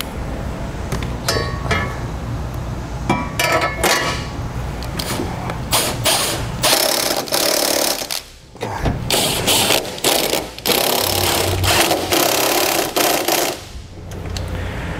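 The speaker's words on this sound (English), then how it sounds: "Now we can reinstall our strut brace." Metal parts clank and tools ratchet while a strut brace goes back onto a 2016 Ford Taurus under the hood, with steady close mechanical clatter and brief pauses, no talking.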